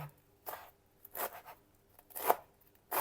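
A knife chopping parsley and dill on a board, a few soft, uneven cuts with quiet pauses between them, close and faint.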